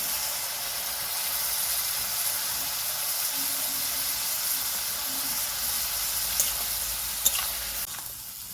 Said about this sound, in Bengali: ঝিঙ্গের সাথে পোস্তটাকে এভাবে কষিয়ে নেব।